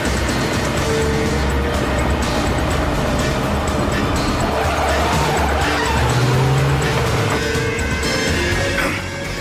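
Car chase with tires skidding: a loud, continuous rush of engine roar and tire squeal, dense and close throughout, with a brief higher screech partway through.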